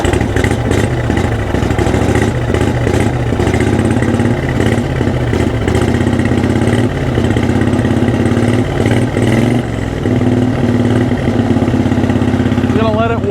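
A turbocharged lawn mower engine, just pulled from storage, runs loud and close, a busy mechanical chatter that holds steady with small fluctuations as it warms up.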